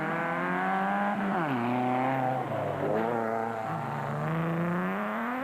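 Toyota Hilux rally trucks, including the Castrol Toyota Hilux 2.7i, racing in the Mafikeng 500 rally, engines droning loud and steady as they pass, pitch dropping and climbing with gear changes.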